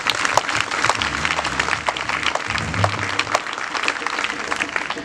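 Warm, sustained applause for a priest from the congregation at a youth mass in a parish church, dense clapping throughout with a few voices and cheers mixed in.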